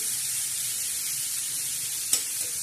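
Onion frying in a pan for a spicy potato and prawn dish, a bright, steady sizzling hiss close by, with one brief clatter of a utensil near the end.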